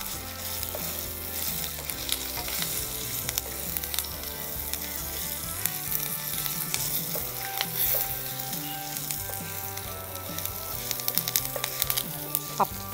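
Curry leaves sizzle in hot oil as a tempering for tomato coconut chutney, a steady close crackling fry that runs throughout with small bright pops.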